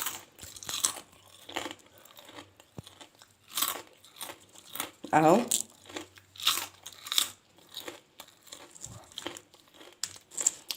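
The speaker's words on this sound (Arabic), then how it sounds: "الشيبس اهو زي ما انتم شايفين كده مقرمش وجميل اهو" Homemade potato chips crunch in a series of close, crisp bites and chewing, uneven and loud, with a brief spoken word between the crunches.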